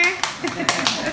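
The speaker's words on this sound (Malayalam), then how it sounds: "അവർക്ക് നന്ദോ കൈയടിച്ചേ" A handful of sharp hand claps in an uneven rhythm at home, close and moderately loud, with voices talking over them.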